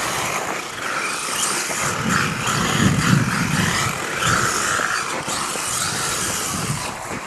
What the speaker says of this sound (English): the more I'm accelerating, the more I'm closing the corner